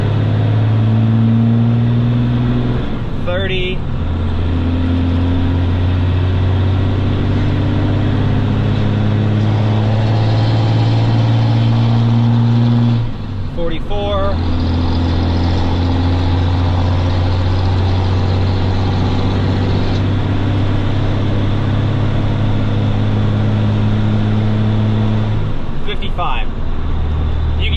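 A hotshot pickup towing 17,000 pounds accelerates through its gears toward sixth, a steady loud low engine drone climbing in pitch with brief dips at each shift, under a voice counting.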